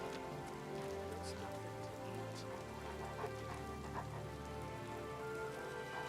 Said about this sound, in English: Why are we just standing in the rain?